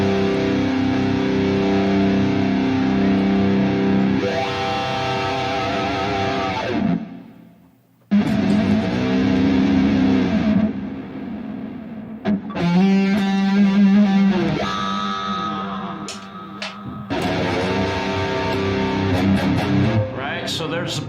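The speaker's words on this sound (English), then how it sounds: "so there's the bridge pickup with a bunch of distortion" Electric guitar, a restored 1985 Carvin V-220 on its bridge pickup, played through a heavily distorted amp, sustained gritty chords and riffs with brief pauses, loud and close.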